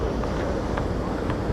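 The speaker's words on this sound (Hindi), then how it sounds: "बहुत ठंडी हवा चल रही है" Cold wind blows steadily across a boat out on the water, a dense, continuous rushing roar with buffeting on the microphone and no clear voices.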